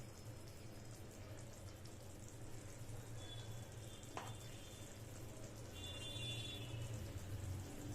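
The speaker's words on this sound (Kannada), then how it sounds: "ಕುದಿಸ್ಕೊಳ್ಳಿ, ಫ್ರೈ ಮಾಡ್ಕೊಳ್ಳಿ." Egg masala gravy frying on a low flame gives a faint, steady sizzle and soft bubbling with no voices.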